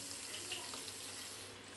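Water pours steadily into a batch of raw green mango juice in a home kitchen, a continuous even splashing and trickling that stays close and unbroken throughout.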